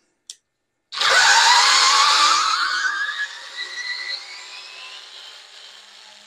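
A Bauer electric screwdriver drives a screw in a workshop: a brief click, then a steady close-up motor whine that runs for several seconds and gradually softens, with no talking.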